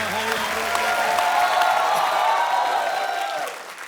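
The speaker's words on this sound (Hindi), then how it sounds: "प्लीज जोरदार तालियों से स्वागत करिए" Studio audience on a TV comedy talk show applauds and cheers as a film superstar is welcomed on stage, a dense steady roar of clapping with a host's voice and music over the start, fading out near the end.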